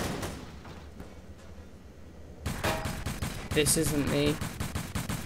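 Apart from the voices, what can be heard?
gunshots from a video game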